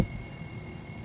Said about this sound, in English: Maybe an alarm clock by his bed?